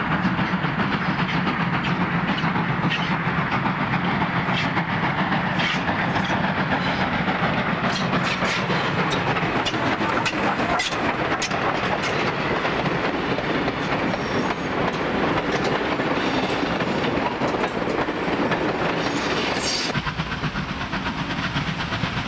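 Steam train rolling along track in New South Wales near Tarpoli, approaching a bridge, with steady loud rumble, rhythmic clickety-clack of wheels and hissing steam, continuous and close for the whole stretch.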